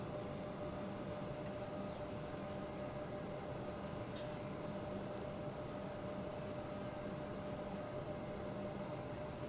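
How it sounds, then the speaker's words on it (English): An ICE train in Transport Fever gives a steady, continuous rumble with a faint constant tone riding on top as it pulls out of a station, even and moderately quiet with no talk. "Come on, Mr. Ice Train, get the hell out of there."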